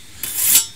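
A single short, rasping stroke of a whetstone drawn along a scythe blade, close and crisp, rising then fading within a second.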